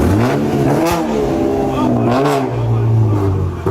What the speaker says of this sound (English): And then he drives away.